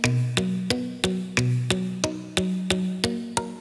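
Muted guitar sample with a delay effect picks a steady stream of short plucked notes, about ten evenly spaced attacks whose tones shift pitch slightly and blur into one another, close and alone.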